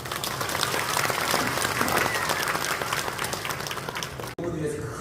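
Dense, sustained applause from a church congregation at a service honoring retiring elders and installing a new senior pastor, filling the room loudly and evenly before cutting off abruptly near the end, with a brief quieter tail.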